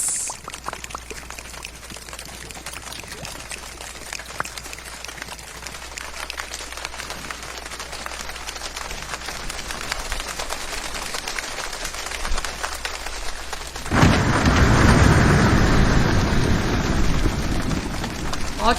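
Steady rain hissing and pattering, building gradually and then swelling into a heavier, louder downpour near the end.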